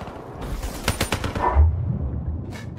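The Man o' War rifle in the video game Call of Duty Black Ops 3 fires a quick burst of several sharp shots, followed by fainter rumbling game noise.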